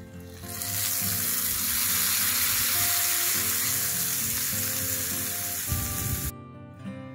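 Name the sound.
hot oil tempering with mustard and chillies poured onto chutney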